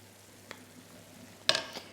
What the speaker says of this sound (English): Now be gentle when you're stirring at this point.